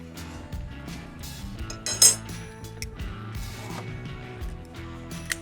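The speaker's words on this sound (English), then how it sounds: "and then pull out our grate." A metal grill grate is pulled out of a Schwenk grill, giving a short burst of clinks and rattles at about two seconds amid light metallic handling clatter, close and fairly loud with no speech.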